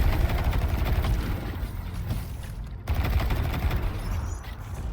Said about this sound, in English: Shoot the sentinel and his little shank buddies.